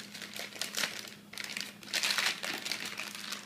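A plastic piping bag for frosting is folded over by hand, giving a steady stretch of crisp crinkling and crackling with a brief pause midway, close and clear with no talk.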